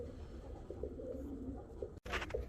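Nürnberg posta pigeons coo softly in low, throaty pulses, several murmured calls close by against a quiet background, with a sudden brief dropout just before a final rustle.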